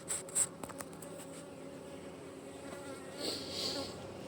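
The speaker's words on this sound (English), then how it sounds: "there's a lot of pissed off bees still around me." Honey bees buzz around a beekeeper during a hive inspection, a low steady hum close by with a few brief sharper sounds near the start and a swell of louder buzzing toward the end.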